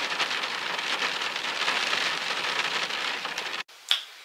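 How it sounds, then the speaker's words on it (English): Heavy rain pours down in a dense, steady hiss that stays loud and even for several seconds, then cuts off abruptly, followed by a brief faint tap. "It was raining so hard."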